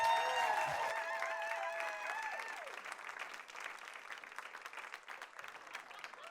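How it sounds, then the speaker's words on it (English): Audience applause at a live science storytelling show, a dense wash of clapping that swells after a short stretch of cheering voices and whoops, then carries on steadily at moderate level to the end. "Please give a warm round of applause for my friend,"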